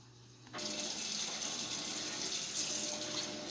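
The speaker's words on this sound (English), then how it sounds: "pour off the hot water" Hot water poured off a pot of boiled salt mackerel with ground provisions in a kitchen, a steady rushing splash that starts abruptly and continues unbroken, close and fairly loud with no talk.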